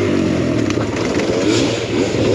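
A Kawasaki KLX enduro motorcycle engine revs hard and continuously while climbing an obstacle on a trail, loud and close with a rough, throbbing drone and clattering underneath.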